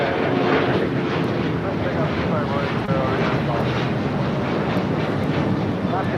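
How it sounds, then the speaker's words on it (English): Continuous loud jet roar of an Alaska Airlines Boeing 737-800 taking off at LAX, broadband and sustained with wind buffeting, while people talk over it. "This is Alaska Airlines Flight 6 taking off to Washington National on a 737-800"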